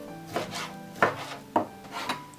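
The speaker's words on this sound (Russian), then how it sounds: "Нарезаем также кубиками." A knife chops fat into small cubes on a board in several separate strokes, close and fairly quiet, with short scraping rubs between cuts.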